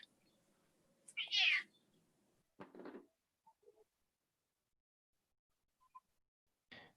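Indoor cat giving an angry, drawn-out meow, followed by a few shorter, harsher yowls and small chirps spaced apart, with quiet stretches between them and no talk.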